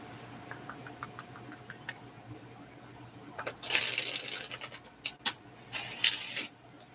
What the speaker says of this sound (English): patiently wait there while I shuffle the cards